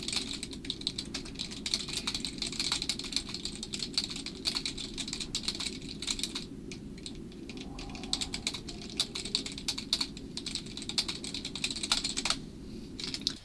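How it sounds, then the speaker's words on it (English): Rapid clacky typing on a noisy computer keyboard, a dense, continuous patter of close keystrokes that carries on for the whole stretch with only brief lulls and no speech. "forgive the clip-clop horrible keyboard sounds there"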